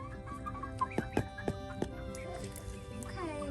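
Young roosters in a backyard flock trying out rough, wavering crows among steady clucking hens, several birds close by, with faint talk from a person behind them.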